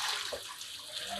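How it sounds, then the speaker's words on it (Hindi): Water from boiled noodles pours through a strainer in a home kitchen, a steady hissing splash that runs throughout, close and moderately loud, with no talking. "स्ट्रेनर में इसका पानी निकाल लेते हैं।"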